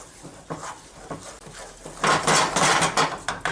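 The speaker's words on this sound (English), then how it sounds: "we just want to mix this up and get this to a nice creamy consistency" Shrimp and mushroom fusilli being stirred with Parmesan in a pan, with a utensil scraping and clinking against the metal. The clinks start soft and sparse, then turn louder and more rapid in the second half.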